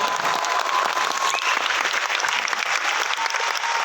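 Loud, sustained applause from an audience at a motivational business seminar in Patna, a dense steady wash of clapping that runs evenly throughout with no talking over it.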